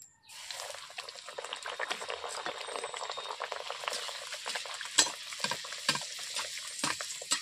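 Luchi, puffed bread, frying in a wok of hot oil, a close continuous bubbling and crackling sizzle with scattered louder pops.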